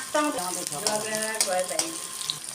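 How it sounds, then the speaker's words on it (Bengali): Onions tossed into shrimp already frying in a pan give a steady, bright sizzle that runs under someone talking throughout. "চিংড়ি মাছ জাল দেওয়া রয়েছে এদিকে দিয়ে দিল পেঁয়াজ"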